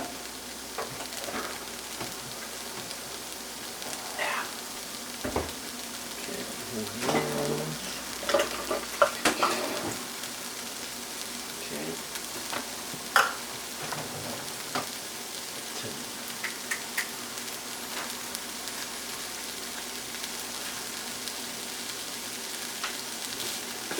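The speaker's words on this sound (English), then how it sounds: "I'm going to keep frying that. Cooking this down for another minute or two." Vegetables and aromatics for a vegan lentil stew sizzle steadily in a pan, with occasional scraping stirs and small pops over a constant bright hiss.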